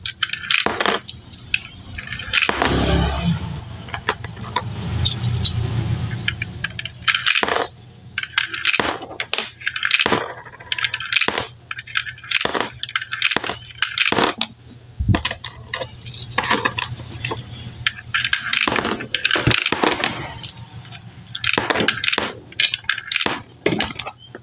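New 5-peso coins drop one after another into the coin slot of a coffee vending machine, sharp metallic clinks and rattles in irregular bursts, close and loud, with a low mechanical hum early on.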